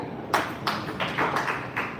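Clapping at a live wellness-company gathering: a short burst of several hand claps in an uneven rhythm, fairly close, with no talk over them.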